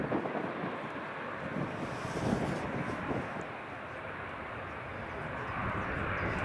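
An A340 airliner roars past at Edinburgh Airport, a broad, steady engine rumble under wind buffeting the microphone, with spotters talking nearby.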